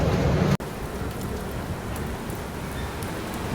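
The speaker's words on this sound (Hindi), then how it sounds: "लगातार बारिश हो ही रही है, रुक नहीं रही है।" Steady, continuous rain falls near New Jalpaiguri Junction in tea-garden country, a dense even hiss of drops on surfaces with one momentary dropout early on.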